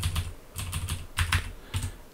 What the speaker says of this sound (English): I'll type in soften